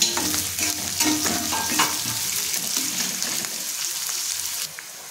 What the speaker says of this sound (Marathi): आता ह्याच्यामध्ये आपण कांदा टाकून घेऊया।